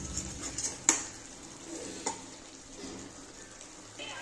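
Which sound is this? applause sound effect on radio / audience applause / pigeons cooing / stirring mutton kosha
stirring mutton kosha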